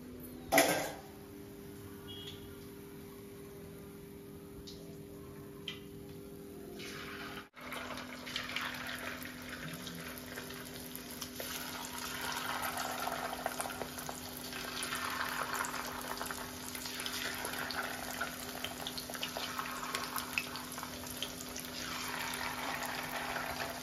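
Thinly cut pieces of Hyderabadi chicken majestic frying in hot oil in a restaurant-style home kitchen, a steady bubbling sizzle that grows fuller after a brief clatter and continues evenly throughout, fairly quiet and close.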